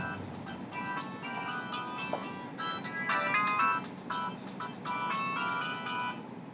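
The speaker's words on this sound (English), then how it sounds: "sorry about that. That was my phone." A mobile phone ringtone plays a repeating melodic tune at moderate volume, continuing for several seconds in a quiet room with little else audible.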